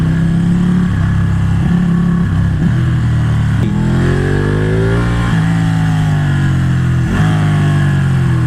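A motorcycle engine revs and accelerates while the rider, standing off the saddle, picks up speed on a twisting road. The engine note is loud, close and continuous, climbing and dropping through the gears with no one talking.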